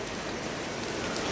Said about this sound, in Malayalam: മഴ പെയ്യുകയാണ് ഗൈസ്, മഴ പെയ്യുകയാണ്.